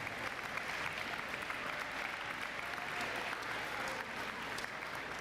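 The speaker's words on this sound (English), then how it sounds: "Let's give him one big round of applause as well." An audience at a spring sports awards ceremony gives a trainer a round of applause, with even, moderately distant clapping that holds for about five seconds.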